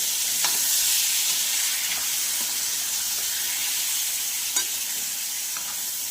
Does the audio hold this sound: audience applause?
no